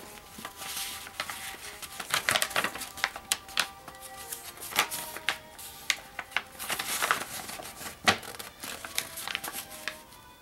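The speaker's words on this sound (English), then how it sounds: "then you fold the whole paper over" A sheet of paper is folded for equilateral triangles, with soft crinkles, creases and rubbing strokes in uneven bursts, close and fairly quiet, with no talk.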